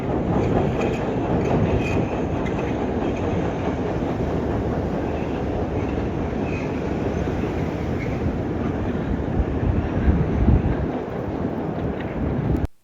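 A Chicago CTA elevated holiday train rumbles steadily past close by as it departs, its wheels clattering on the rails with occasional squeals, and wind buffeting throughout.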